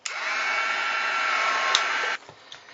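A heat tool blows hot air over iced enamel ivory relic powder on an upcycled snowflake brooch, a loud, even, close whoosh that holds for about two seconds and then cuts off, followed by faint handling noise.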